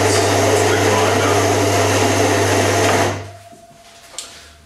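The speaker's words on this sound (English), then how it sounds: "let's see the results of the grinder." A grinder for a Faema E61 Jubile espresso machine runs steadily and loudly with a low hum for about three seconds, then stops, leaving a quiet room with a few small clicks.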